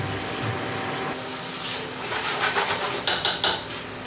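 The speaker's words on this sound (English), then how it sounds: "So just touch raw pork on the board, so just give it a quick wash." Cutting board rinsed after touching raw pork, with clattering and knocking against a sink, running water, and a few sharp taps near the end, close and moderately loud.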